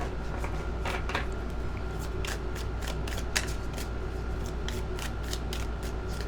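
Tarot cards are riffle shuffled close by, giving repeated quick crisp bursts of flicking and riffling over a low background hum, with no voices.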